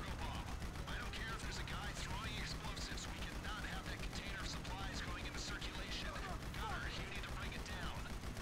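Rapid game gunfire from GTA 5 Online, a dense continuous volley of shots and mechanical clatter running the whole stretch, with voices talking over it.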